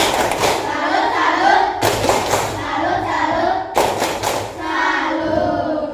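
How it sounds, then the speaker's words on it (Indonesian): A school class performs a rhythmic salute clap, with three loud unison claps or thumps spaced about two seconds apart and children's voices chanting between them. "Beri tepukan salut untuk kita semua biar kita lebih semangat. Tepuk salut."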